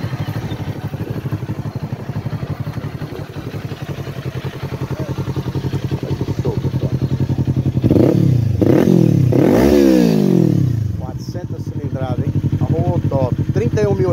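A motorcycle engine idles with a steady rumble, then revs up sharply a few times before settling back to idle, close by, at a sales fair in Brasília.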